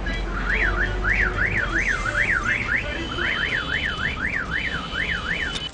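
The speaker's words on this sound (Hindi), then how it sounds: "वजह बेवजह बस का हॉर्न इस तरह बजाया" A bus horn blares in a repeated rising-and-falling siren-like wail, loud and continuous, cycling steadily over a low rumbling background with no talk.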